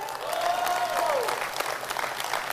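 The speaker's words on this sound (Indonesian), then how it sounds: "Tepuk tangan untuk Riwe" An audience claps warmly at a leadership training meeting, a burst of applause that swells and then continues unevenly to the end.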